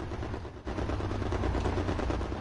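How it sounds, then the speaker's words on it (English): Dense, continuous gunfire from the WWII shooter Hell Let Loose roars without pause, loud and rough, with no clear gaps between shots. "Hearing gunfire at like 220"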